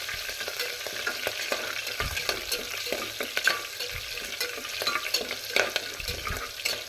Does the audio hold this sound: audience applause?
no